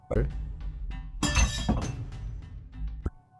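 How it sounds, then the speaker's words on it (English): A drinking glass slides along a shelf, tips off the edge and shatters, giving a sharp crash with clinking fragments and a final small clink, close and loud with no talk. "It's like something is pushing or pulling the glass, then it tips off the edge and breaks."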